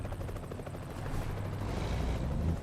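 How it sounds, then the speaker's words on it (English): A helicopter rotor thumps steadily, continuous and fairly loud against a low rumbling backdrop in the American Truck Simulator video game, with no talk over it. "You hear that helicopter?"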